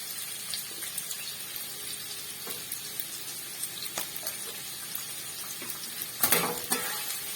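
Onion and capsicum fry quietly in a pan for chowmein, a soft steady sizzle broken by scattered stirring clicks and a louder scrape near the end.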